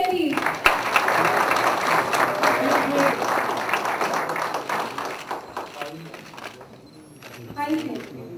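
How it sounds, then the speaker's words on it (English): Audience at an agricultural investment event applauding, a steady round of clapping that thins out toward the end, with voices heard throughout. "A big hand for them, please."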